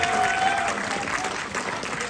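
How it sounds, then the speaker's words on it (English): Applause from an audience at an early film screening, a steady wash of clapping from a room full of people, fairly loud and continuous for a couple of seconds. "So give yourselves a round of applause."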